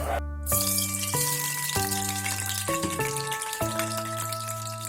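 Water is poured from a kitchen vessel into a pot of melted wax and coconut oil, a continuous close splashing pour with a shifting, ringing tone as the level changes, with nobody talking.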